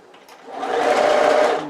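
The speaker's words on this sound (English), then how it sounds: "Stitch the turning gap closed. I just run it under the machine" A sewing machine stitching closed the turning gap of a fabric tote bag, a close, loud steady whirring run that ramps up, holds for about a second and eases off.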